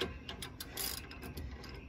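A ratchet wrench with a socket tightens a 17 mm nut on a Rough Country steering stabilizer mounted on a Ford F-250, producing quick, close, light metallic clicks in short bursts, fairly quiet with no voices.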